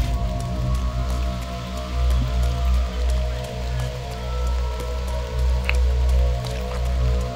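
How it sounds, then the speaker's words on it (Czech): Heavy rain falls steadily during a mountain trail run, with dense drips and splashes over a continuous low rumble of wind or movement; no voices are heard. "začalo hustě pršet"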